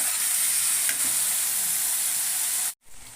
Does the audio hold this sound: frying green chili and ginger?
yes